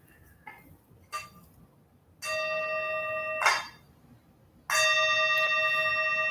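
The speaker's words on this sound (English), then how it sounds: "Bells." Bells struck during a Buddhist service before a chanted robe verse: two faint light taps followed by two loud, ringing strikes that sustain with a long shimmering decay, in a quiet room.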